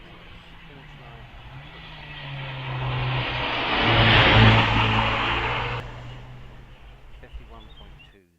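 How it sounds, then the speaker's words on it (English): Mazda MX-5 accelerating hard up a hillclimb course, its engine note rising and swelling to a peak before fading as the car pulls away, with a commentator talking over it throughout. "Aaron Sharp also kicking the back out of his MX-5 as he puts the pedal down"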